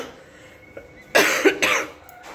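A person with an illness coughs, a quiet throat sound followed by a couple of loud, harsh close coughs in quick succession.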